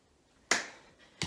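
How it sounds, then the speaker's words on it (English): Hand claps struck in front of and behind the body during a PE throwing challenge, two sharp separate claps about 0.7 seconds apart, close and crisp in a quiet room. "we can try the clap in front and behind"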